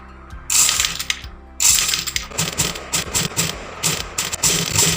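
A sewing machine stitches lace around the back neck of a blouse in short mechanical bursts of rapid, clicking needle action, separated by brief pauses, close and distinct.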